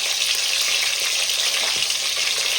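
Duck eggs fry in hot oil, browning for a duck egg curry, with a short burst of dense, close sizzling and faint stirring underneath.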